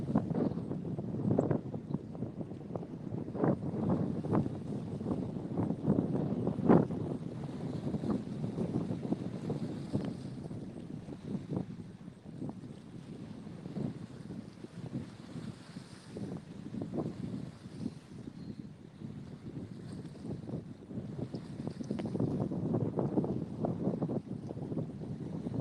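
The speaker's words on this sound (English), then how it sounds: "Ooh, that wind is relentless." Strong, relentless wind buffets a fishing boat out on the water, a steady roaring rush across the microphone with scattered knocks and thumps, no voices.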